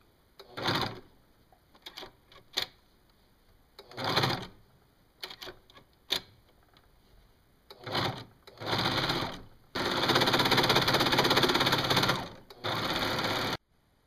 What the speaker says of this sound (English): everything's all serged and trimmed